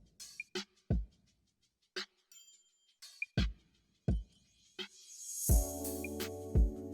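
Programmed drum beat with flanger and filter automation: sparse kicks, snaps and hi-hats in a bouncy pattern, then a sweeping filtered synth chord swells in near the end, loud and without talk.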